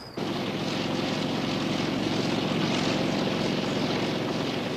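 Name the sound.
aircraft flying to the Siding Springs telescope facility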